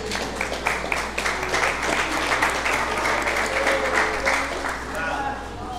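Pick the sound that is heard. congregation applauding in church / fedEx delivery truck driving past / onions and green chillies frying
congregation applauding in church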